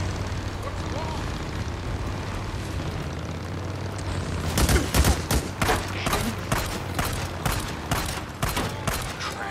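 Shooting in the open-world zombie survival game Days Gone: after a few seconds of steady droning background, a quick series of sharp, evenly spaced shots cracks out, with someone talking around them.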